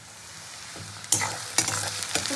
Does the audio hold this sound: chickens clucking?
no